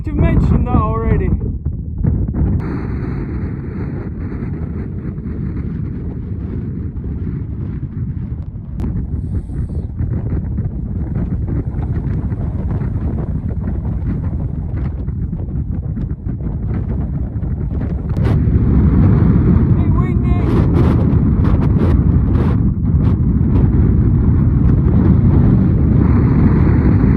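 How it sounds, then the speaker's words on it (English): Gale-force wind roars and buffets the microphone on a North Wales mountain summit, steady and loud throughout and surging stronger near the end, with a voice talking under it. "it's just mental windy up there on the top"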